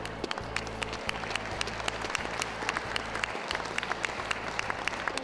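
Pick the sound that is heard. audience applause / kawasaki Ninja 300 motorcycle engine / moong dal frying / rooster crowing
audience applause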